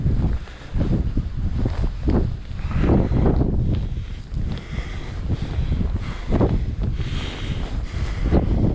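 Strong blizzard wind roars and gusts in uneven surges, buffeting loudly across the microphone in snowy streets lined with deep drifts, with no talking.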